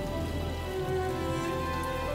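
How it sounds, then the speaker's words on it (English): Summer rain falls at night, a steady, dense patter on surfaces filling the whole stretch, with a faint low tone droning beneath and no voices. "A summer rain fell that night"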